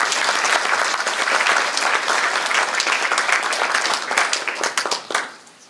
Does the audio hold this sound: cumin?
no